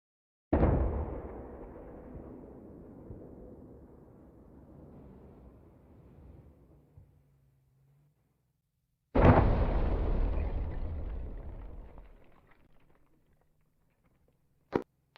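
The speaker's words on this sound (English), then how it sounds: "Weapons cache destroyed. Secondary explosions." Military demolition charges destroy a weapons cache during Marine platoon training: two heavy, booming explosions several seconds apart, each followed by a long rumbling decay, then a sharp short burst at the end.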